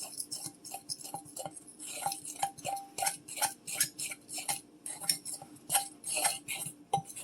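Rapid metallic scraping and clinking of a fork mixing cookie dough in a bowl, steady and close, with short repeated strokes and no voices.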